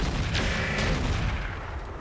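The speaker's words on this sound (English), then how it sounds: "We're going to fire these direct fire." Mech weapons firing direct fire in the video game RogueTech, heard as a loud, dense rumbling barrage with sharp bursts, continuous across the short span.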